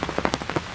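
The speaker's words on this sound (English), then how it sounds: "It is raining like crazy." Heavy rain pours down on an outdoor deer blind early in the morning, a dense steady hiss with scattered louder drops and patters, close and fairly loud.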